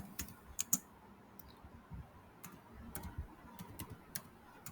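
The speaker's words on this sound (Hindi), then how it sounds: "तो मैं एक प्रॉम्प्ट अभी टाइप करूँगा" Quiet, close clicks of a computer keyboard as a ChatGPT prompt is typed, irregular bursts of keystrokes with short pauses between them.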